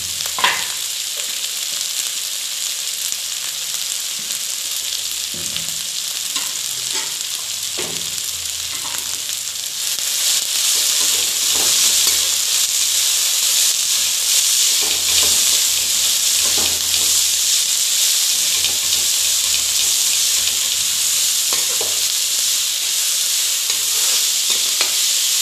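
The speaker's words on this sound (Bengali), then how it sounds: "শাকখিনি মই অকণমান সময় ভাজি লম।" Fiddlehead fern greens fry in a pan with cumin powder, turmeric and salt, giving a steady close sizzle and hiss throughout that grows louder partway through, with occasional stirring clatter.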